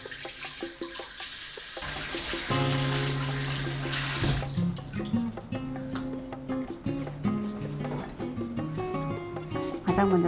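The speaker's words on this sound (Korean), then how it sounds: "모든 재료는요, 개수대에서 먼저 깨끗이 세척해 줍니다." Tap water runs steadily into a kitchen sink while vegetables, including leeks, are washed before cooking, a close rushing splash with soft handling bumps, joined by background music partway through.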